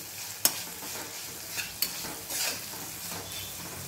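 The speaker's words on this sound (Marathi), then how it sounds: "छान अशी आता मिरची ही शिजू द्यायची आहे" Green chili peppers for limbu mirchi sizzle in a hot pan with a continuous close frying hiss, broken by a few sharp clinks of a spoon stirring against the pan.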